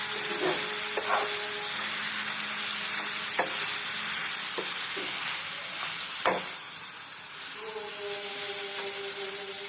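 Tomatoes sizzle and hiss steadily in a pan with occasional stirring scrapes and clicks; no talking, just the constant fry of food cooking.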